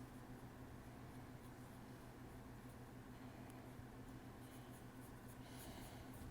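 A pencil scratches steadily across paper as an animator sketches a three-legged dog, a soft continuous rasp under a constant hiss of room noise.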